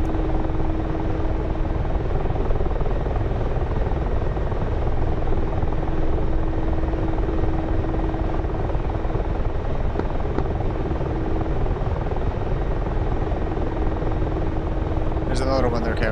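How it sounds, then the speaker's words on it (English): Steady, droning helicopter rotor and engine noise from a Mi-24P in a combat flight game, loud and constant throughout with a faint hum underneath, ending in a brief sharp burst. "I got a helicopter"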